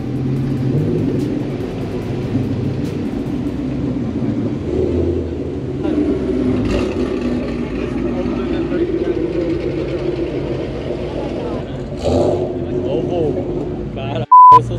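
A turbocharged car engine rumbles steadily at a car meet, a low continuous drone with slight swells, close by, with a short electronic beep near the end.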